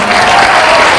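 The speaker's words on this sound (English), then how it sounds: "Julie Morris, keep clapping." An audience at a 2000 Scholastic Book Fairs presentation claps in dense, steady applause, loud and close for the whole brief moment.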